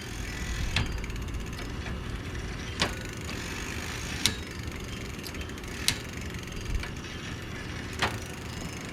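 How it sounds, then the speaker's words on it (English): A bicycle wheel spins freely after its tire, inner tube and chain are put back on, giving a steady whirring hum with a regular soft tick about once per rotation, close to the microphone. "put everything back in now and spin the tire"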